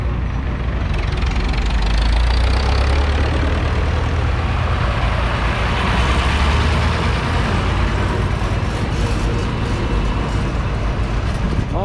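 Several groups of John Deere tractors idle and roll in during a ride, a steady, loud low engine rumble that holds throughout with no break.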